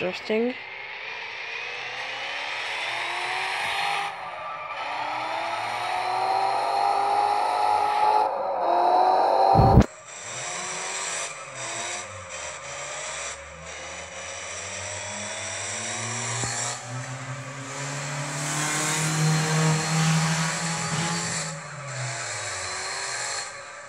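A BMW 3 Series M drifts around a bus station in Munich, its engine revving and rising and falling in pitch through repeated bursts, with a sharp thump midway and tyre and engine noise sweeping up and down.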